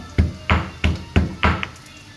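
Five dull, heavy thuds in a steady rhythm as ingredients are pounded or crushed in a mortar for a fig stew, close by with no talking.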